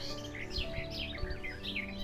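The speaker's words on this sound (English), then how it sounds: "Beautiful birdsong." Birds in English farmland and woodland around Wiston, a series of bright chirps and short song phrases repeating quickly, moderately close over a low steady background hum, without any talk.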